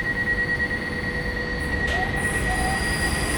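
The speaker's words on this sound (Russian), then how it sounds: "Поезд через 5 минут уходит, да?" A train stands at a station platform in Germany, its steady rail hum and faint wheel squeal continuous and fairly close throughout, with no talk.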